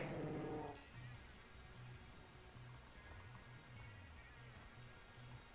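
Rain weather in a Pokémon Scarlet double battle gives a soft, steady patter of falling rain that continues throughout, quiet and even, after a brief louder burst of game sound at the start.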